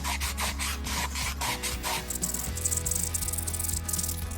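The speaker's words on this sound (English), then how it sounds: "we're going to do the sanding on the interior of this circle first" Sandpaper rubs steadily inside the circular hole of a small scrap-wood rattle, a close, dry rasp in repeated strokes that quicken into rapid back-and-forth scrubbing.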